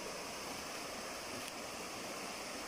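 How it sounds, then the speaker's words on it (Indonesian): Water of the Sungai Paku river rushes steadily along its bank, a dense, even broadband wash that stays constant throughout with no talk over it. "Hari ini saya berada di tepi sungai, iaitu sungai, nama sungai ini Sungai Paku."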